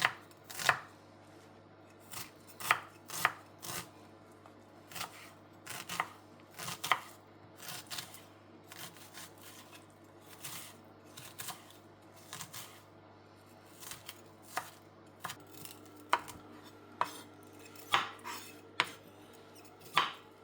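Knife chopping onions and then bitter gourd on a board, irregular bursts of sharp close cuts with short pauses between them, no talking.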